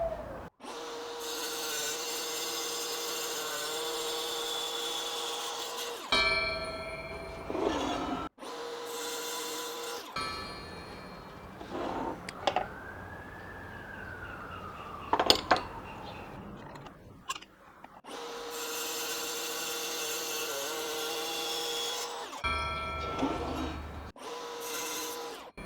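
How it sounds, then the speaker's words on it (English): A power saw cuts aluminum angle stock, loud sustained whining and grinding passes broken by short pauses and clunks of handling, with a rising and falling pitch in the middle as the blade slows and restarts. "now I'm going to cut aluminum angle to 2 pieces of 72 mm."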